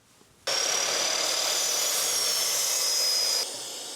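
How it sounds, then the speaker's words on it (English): Miter saw cutting wood into 3/4 inch pieces: a loud, sustained whining motor roar starts abruptly, holds steady for about three seconds, then drops to a lower spinning hum as the blade winds down. "I'm gonna head back over to the miter saw and cut these down into 3/4 inch pieces"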